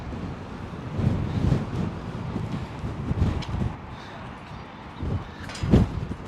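Gusty wind buffets the microphone in low, irregular rumbling bursts, rising and falling over a steady outdoor background on a Manhattan street.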